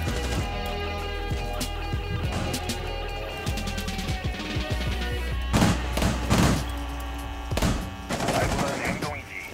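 Gunfire in the video game Rainbow Six Siege, a dense loud run of shots and impacts over a constant rumbling bed, with heavier bursts later on and voices now and then.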